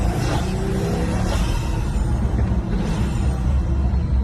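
A real Pagani supercar with a twin-turbo V12 engine, a steady loud mechanical roar with a broad rumbling low end and some higher whine, continuous throughout with no talking.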